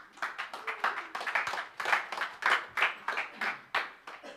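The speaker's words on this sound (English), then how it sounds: "please welcome him with a round of applause" Conference audience at a main stage event clapping to welcome a speaker: a modest, uneven round of hand claps from a smallish crowd, fairly close and distinct, with no talk.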